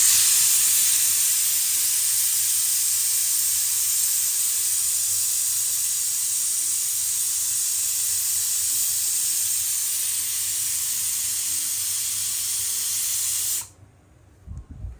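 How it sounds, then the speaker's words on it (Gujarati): Pressure cooker whistling as it releases steam while peanuts cook, a loud steady hiss lasting about thirteen seconds before cutting off abruptly into near silence. "રેડી, ફાઇનલી 1 સીટી થઈ ગઈ છે."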